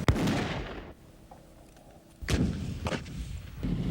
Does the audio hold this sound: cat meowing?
no